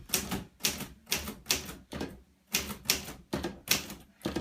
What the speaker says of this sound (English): So you can type anything that you wish on a typewriter.